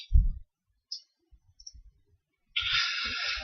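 Computer mouse clicks on a Windows system restore screen, a few soft, isolated clicks spaced apart, close and quiet, followed by a steady hiss of background noise.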